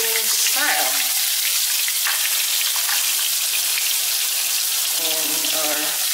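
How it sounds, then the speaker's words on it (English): Garlic fries in a spoonful of hot cooking oil, a loud, steady crackling sizzle close by, with brief clinks and a voice speaking briefly at the start and near the end. "So I am using a 1 spoon of cooking oil. And next, add our garlic."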